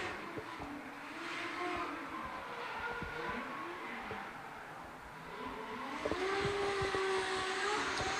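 Troy Jenkins's drift car on a qualifying run at the 2019 D1NZ Pro Championship in Tauranga, its engine revving and wailing up and down at a moderate distance, growing louder toward the end.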